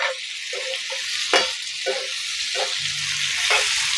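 Tomato and onion frying in a pan for chicken fry: a steady, close sizzle with intermittent scraping stirs every half second or so, no voices over it.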